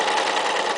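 A sewing machine with a special presser foot stitches two layers of fabric along a curved seam, giving a steady, close, continuous whir that holds for the whole brief moment.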